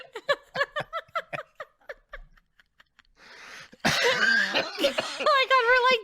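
Several people cough and laugh together at close range, a run of rhythmic bursts giving way to louder mixed laughter, wheezing and coughing fits.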